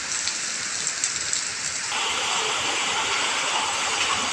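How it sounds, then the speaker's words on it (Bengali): Heavy rain falling during a hailstorm with light hail, a steady dense hiss of downpour that thickens and grows louder partway through, with no voices. "শিলাবৃষ্টি হচ্ছে, হালকা একটা শিলাও পড়ছে।"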